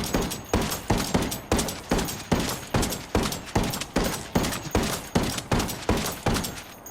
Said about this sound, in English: Let's just fire some shots out here into the woods, and let's just listen to the speed at which we can fire